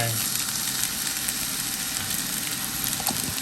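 Boiled Mama instant noodles fry in a pan with a loud, steady sizzle and occasional stirring scrapes, continuous throughout.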